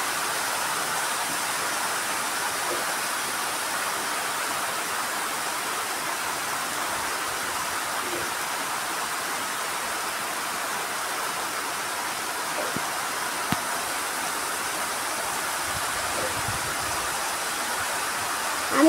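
Heavy rain pours down in darkness, a dense, unbroken hiss of drops that stays loud and even for nearly twenty seconds with no talking.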